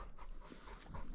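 A large village dog pants in quick, soft, breathy bursts, close but faint, with no talk.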